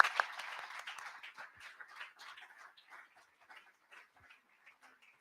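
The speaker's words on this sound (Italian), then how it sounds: "vi chiedo un applauso bis al professor Pozzato" Scattered applause from an audience at a history lecture in Bassano honoring Professor Pozzato, starting with a brief stronger burst and quickly thinning to sparse, faint claps that die away over several seconds.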